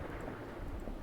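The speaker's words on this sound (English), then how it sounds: "Thunderstorm." Low rumbling thunder with steady rain noise from a thunderstorm in a video game, quiet and continuous, with no distinct crack or talk.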